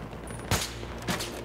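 Gunfire in the Battlefield 3 single-player campaign: two sharp, loud shots about half a second apart over a steady in-game background rumble.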